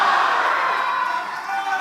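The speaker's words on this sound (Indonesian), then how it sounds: "Kita tepuk tangan untuk 2 calon wakil gubernur di sesi ini." A studio audience at a televised regional election debate applauds and cheers, a dense, even wash of clapping that stays loud for the whole short stretch.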